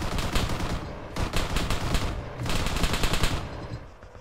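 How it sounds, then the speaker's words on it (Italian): Bursts of automatic gunfire in the military shooter Arma 3, loud and close, rattling in two dense volleys separated by a brief lull, with no voices. "Che cazzo sta, mi sta sparando."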